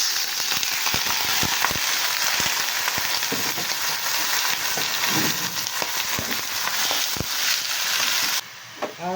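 Pork belly (liempo) sizzling in a pan with garlic for a Filipino adobong puti, a loud, steady crackling fry with sharp pops throughout, cutting off abruptly near the end.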